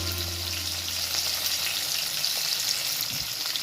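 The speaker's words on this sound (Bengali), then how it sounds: "এই আনাজটার মধ্যে আমার আলু, বেগুন, মূলো, কাঁচা লঙ্কা দিয়েছি" Potatoes, eggplant, radish and green chili sizzling in oil in a pan, alongside previously fried cauliflower for a stem curry; a steady, fairly loud hiss of frying with a faint stir or knock near the end.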